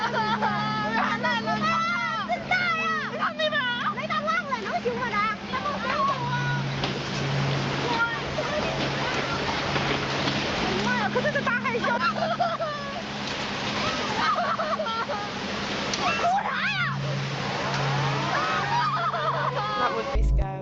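Raging floodwater roars and splashes constantly throughout, while several people plead and shout over it, their voices loud and strained above the churning water.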